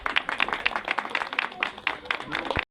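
A group at a primary-school Christmas goods distribution in Dhorchaur claps together in a quick, even rhythm, about ten crisp beats in under three seconds, loud and close, stopping abruptly.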